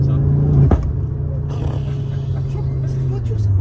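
A car engine drones in a low steady rumble as the driver gives it gas, with a brief sharp knock early on and the pitch shifting slightly while people talk over the cabin noise.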